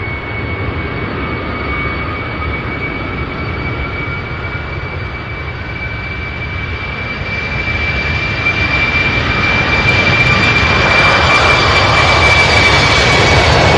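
An airliner taking off at SDF airport, its jet engine roar building steadily from a distant rumble to a loud, full thunder with a thin whine on top.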